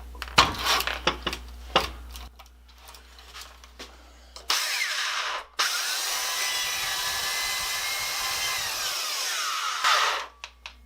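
A power sander fitted with 50 grit sandpaper on a flat platen grinds across a metal casting base. A few clattering knocks come first, then one short run, then a long, loud, steady abrasive whir that stops abruptly.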